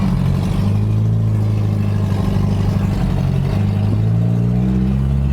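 An abandoned 1960 Mercedes-Benz with flat-spotted tires runs steadily, its engine giving a loud, close, low hum with a slight rise and fall in pitch and a faint clattering underneath.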